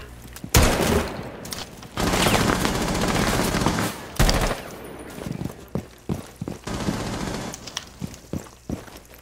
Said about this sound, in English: Running out of ammo, pre-firing this much.